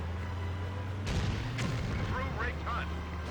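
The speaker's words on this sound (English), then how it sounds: "Explosion." A loud explosion in the Stuntman stunt-driving video game bursts out with a deep boom and crackling debris over a running engine drone, followed by rising whistling effects.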